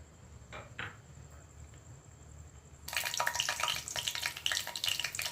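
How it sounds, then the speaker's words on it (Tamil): Cinnamon and cardamom drop into hot oil. After a few quiet seconds with a couple of faint knocks, a sudden bright crackling sizzle bursts in and keeps spitting loudly to the end, with no talking. "எண்ணெய் காய்ச்சதும் லவங்கப்பட்டை,"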